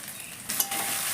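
Spices frying in a pan for Bengali khichuri, a close, constant sizzle that swells briefly as the pan is stirred, heard alone without talk.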